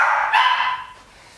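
A loud, close dog bark that trails off into quiet, from dogs barking indoors at someone out at the front of the house.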